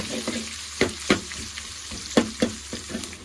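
Onions and curry leaves sauté in hot oil in a pan for a village-style crab soup, a low sizzle broken by several distinct stirring scrapes and taps.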